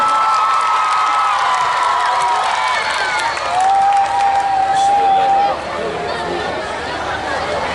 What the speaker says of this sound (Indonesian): Kita berikan tepuk tangan yang meriah Bapak Ibu sekalian